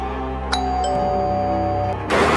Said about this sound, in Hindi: डोरबेल बज रहा है, दरवाजे पे कोई है